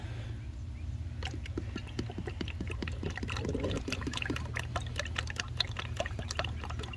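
Motor oil pours into the 5.7 V8 engine of a 1988-1999 Chevy C/K1500 pickup with 330,000 miles, a soft, close, steady glugging trickle with small liquid ticks over a low hum, quiet and unbroken.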